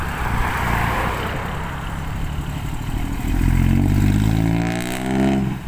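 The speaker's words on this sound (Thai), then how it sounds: "คราวนี้มาดูจังหวะ ออกจากบ่อมาครับ จังหวะออกโตออกตัว ท่อใครจะรัดกว่ากัน" A dump truck with a loud exhaust pulls out of a pit in strong wind, its engine droning and then revving up loudly as it moves off, with wind noise throughout.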